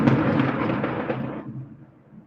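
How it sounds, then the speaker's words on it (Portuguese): A thunderclap heard during an online class, a deep broad rumble that starts loud and rolls on before fading out over a couple of seconds, with no voices over it. "Vocês escutaram aí o trovão?"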